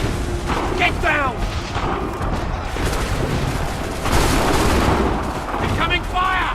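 Artillery fire in the video game Assassin's Creed III, a steady rumble of distant booms and blasts under battlefield noise, with shouted voices and talk over it throughout.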